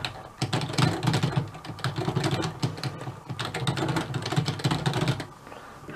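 Rapid, irregular clatter of keys on a computer keyboard, close and steady, with brief pauses between bursts.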